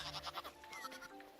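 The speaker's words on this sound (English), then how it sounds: "Come on, sheeps. This way. On the fence." Sheep bleating in the video game Hytale, a quick series of faint, wavering bleats close together over barely a second and a half.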